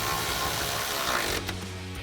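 A hand ratchet with a 13mm socket and extension tightens the mounting bolts on a running-board bracket for a 2019-2023 Chevrolet Silverado 1500, giving a steady close clicking of the pawl that briefly pauses, then resumes, with no talk over it.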